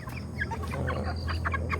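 A flock of broiler chickens on a poultry farm clucks close by in a brief, busy chorus, with overlapping short calls over a low steady hum.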